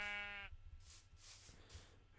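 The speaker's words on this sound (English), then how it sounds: "There's another sheep." Sheep bleating in a fantasy adventure video game: one clear, wavering bleat opens, then soft ambient game noise and a low hum continue with no voices.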